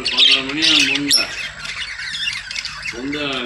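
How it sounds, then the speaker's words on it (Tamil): Pet lovebirds squawk in sharp, shrill bursts throughout, loud and close, with a voice-like harmonic call near the start and again at the end. "லவ் பேர்ட் சவுண்ட்லாம் உங்களுக்கு கேட்கும்."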